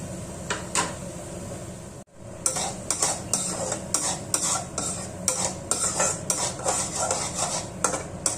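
Spices sizzle softly in a pan on low flame while a spoon stirs and scrapes against the metal in short repeated strokes, with a brief pause partway through.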